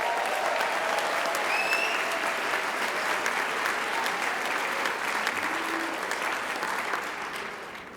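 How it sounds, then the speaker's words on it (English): A large crowd at a union leadership conference claps in sustained, dense applause for about eight seconds, then it tapers off slightly near the end. "Give yourselves a huge round of applause"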